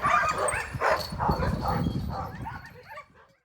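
Sled dogs in Seward, Alaska barking and yipping excitedly in a rapid overlapping burst, close and loud, tapering into softer whimpers before falling quiet.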